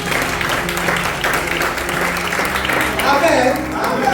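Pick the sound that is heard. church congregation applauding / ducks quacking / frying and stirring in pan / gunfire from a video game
church congregation applauding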